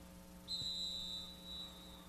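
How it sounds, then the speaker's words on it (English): A referee's whistle stops play at a college men's soccer championship match: one long, thin blast followed by a shorter one, fairly faint and distant over a low steady hum. "And a whistle and a stoppage."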